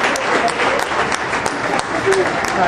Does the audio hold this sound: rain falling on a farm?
no